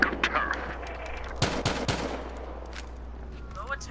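Gunfire in the video game Battlefield Hardline: a short cluster of loud sharp shots near the middle, with quieter scattered bursts around it and faint speech.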